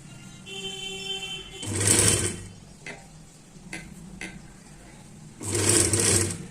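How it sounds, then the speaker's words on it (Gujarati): Sewing machine stitching blouse fabric with a gentle hand, running in two short whirring bursts separated by quieter pauses with faint mechanical ticks. "અને હવે આપણે અહીંથી સિલાઈ કરી લેશું એકદમ પોચા હાથે જ"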